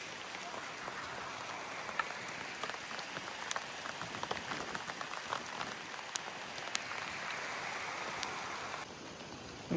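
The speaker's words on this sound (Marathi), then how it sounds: "पाऊस बघा येतोय खूप छान प्रकारे रिमझिम" Light drizzling rain, the first of the season, patters steadily on surfaces outdoors near farmland, a dense even wash of fine drops with scattered sharper ticks throughout.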